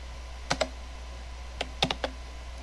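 A few crisp computer keyboard keystrokes come in two small clusters over a low steady hum, close and fairly quiet.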